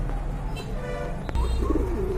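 A pair of pigeons with their chick coo briefly and faintly over a low background hum, with no voices.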